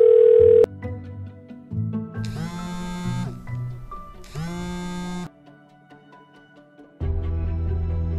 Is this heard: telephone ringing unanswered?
yes